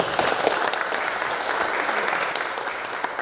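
Residents at a neighborhood redevelopment information meeting applaud in thanks, a thick, continuous wash of clapping from a large seated crowd that stays steady throughout.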